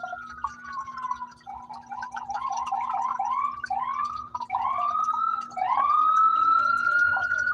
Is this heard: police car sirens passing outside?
yes